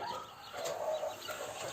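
A rooster in a mixed backyard flock of laying hens in Giresun crows once in a single drawn-out call near the middle, over a soft steady background with no talk.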